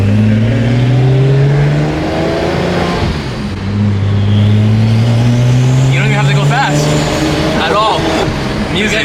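A straight-piped Ferrari 348 revs and accelerates on Miami streets, heard loud from inside as the engine note climbs in two long pulls with a pause between, with a voice talking under it.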